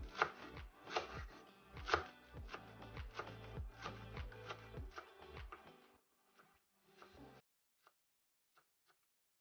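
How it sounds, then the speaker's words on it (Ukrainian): A knife finely chops green onion and half a red onion on a board, a quick steady run of close crisp cuts for about seven seconds, then slowing to a few isolated taps, with no voices. "Покришимо зелену цибулю і половинку червоної. Все кришимо дрібненько."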